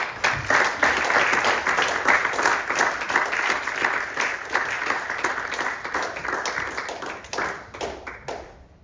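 A church congregation breaks into sustained applause, dense clapping with some cheering, loud and steady for several seconds before tapering off at the end.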